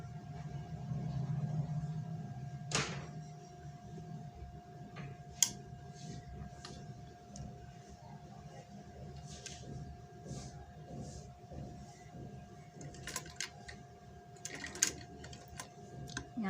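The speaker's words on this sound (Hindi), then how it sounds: "سلائی سٹارٹ کرنی ہے" A sewing machine stitches along fabric beside a buckram edge, making quiet, rhythmic ticking and light mechanical clatter over a low hum, faint and close with scattered sharper clicks.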